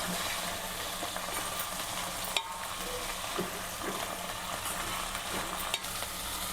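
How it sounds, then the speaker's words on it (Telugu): Mint chutney ingredients fry and get stirred in a pan, giving a steady close sizzle with occasional scraping clinks, alone with no talk. "ఇది దగ్గరకు అయ్యే వరకు ఫ్రై చేసుకుందాం."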